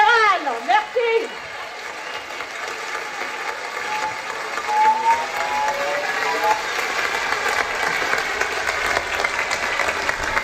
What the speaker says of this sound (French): Acclamez-le s'il vous plaît, c'est le secrétaire général.